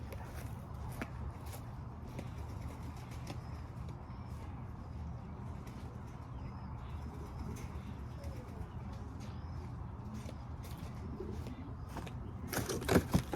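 A pigeon hen cooing, a soft low repeated coo under steady background noise, with faint rustling and a brief louder clatter near the end.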